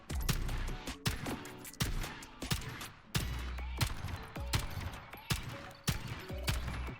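Mini Uzi fire from a modded Bonelab VR game, heard as several bursts of rapid automatic shots with short pauses between them, loud and close, with no talking.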